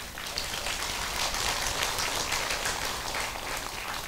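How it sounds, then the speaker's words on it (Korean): Dense, steady applause from a Buddhist temple audience at a joint dharma service, many hands clapping continuously at an even level throughout, with no voices above it. "그러니까 박수를 한번 쳐봐요"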